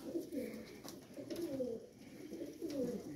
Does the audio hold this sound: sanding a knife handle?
no